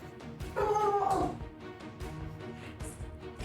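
A dog in a room gives a short, high whining whimper amid a busy background of other noises, heard once and briefly before fading back into the mix.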